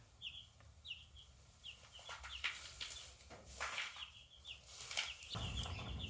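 Cornish Cross meat chicks at one week old: faint, high repeated peeps and soft clucks, with some rustling and flapping, over a low background hum.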